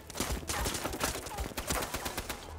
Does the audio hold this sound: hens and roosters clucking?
no